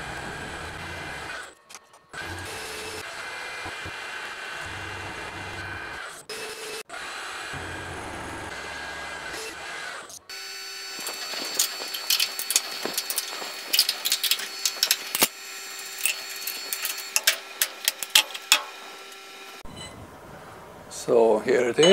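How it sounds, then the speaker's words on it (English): A milling machine cuts new side plates for a harmonic drive 4th axis build, sped up, giving a fast whirring, chattering machine drone with rapid clicks and tonal whine that grows busier and louder midway. "Milling the new side plates."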